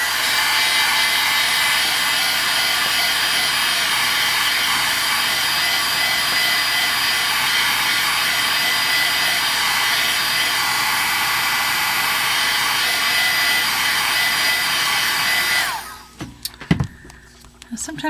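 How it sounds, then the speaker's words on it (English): A heat gun drying water-based ink on a Northern Lights background painting gives a loud, steady blowing hiss for about fifteen seconds, then cuts off into a few soft handling knocks. "I'm just going to quickly dry it with my heat gun."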